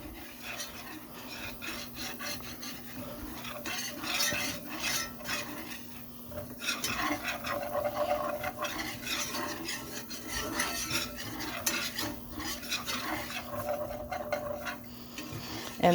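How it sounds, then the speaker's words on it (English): Flour being stirred into bacon drippings in a pan to make a breakfast gravy roux, a close, quiet, steady scraping and rasping of the utensil across the pan bottom, with brief louder strokes throughout. "So I'm going to keep pouring more flour in, a little bit at a time, stirring it in, and this is called a roux."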